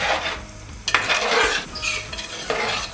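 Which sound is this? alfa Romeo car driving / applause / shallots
shallots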